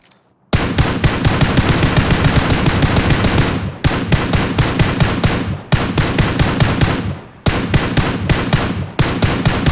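Automatic gunfire sprays in bursts in a shooter video game, loud rapid shots in three long strings separated by brief pauses, close and dominant with no talking.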